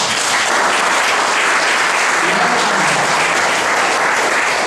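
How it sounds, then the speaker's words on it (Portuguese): A church audience claps continuously, a dense and loud round of applause filling the room without pause. "dá uma salva de palmas"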